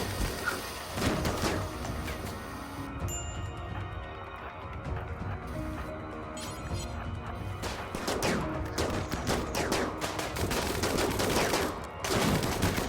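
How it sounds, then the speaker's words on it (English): A RimWorld firefight against a wendigo raid, with many shooters firing on one colonist wearing a shield belt: scattered bursts and rapid volleys of shots, mid-distance, throughout a busy battle mix with faint talk. "Wendy, you're being shot at by, like, everyone"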